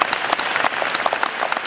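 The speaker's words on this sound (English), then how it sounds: "Big clap for Mike." A brief burst of audience clapping for Mike at a Ride Don't Hide event, dense and fairly loud with no talking over it.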